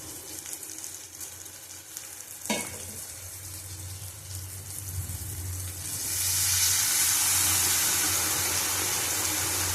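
Water poured into mustard paste in a hot frying pan, a quiet simmering hiss with a brief clink, then a loud steady rush of sizzling steam that holds to the end, close up with no voices.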